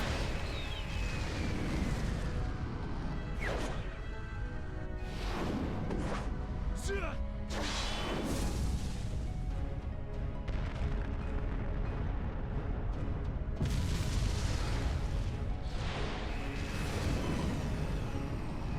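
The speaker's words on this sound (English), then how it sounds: "I gotta shoot a bomb into their mouth." Bombs fired into enemies' mouths exploding in the action game Asura's Wrath, with repeated loud blasts and whooshing bursts over a constant roar of battle noise, while a player talks throughout.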